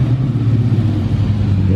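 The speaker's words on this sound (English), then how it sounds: "Some saucy bikes coming down here." Motorbikes pass along a road under a clear sky, a loud, continuous low engine rumble close by with no other sounds over it.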